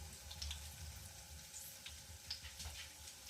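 Breaded banana balls fry in a pan of hot oil, giving a steady, quiet sizzle with soft crackles and small pops scattered throughout, close by and with no voices.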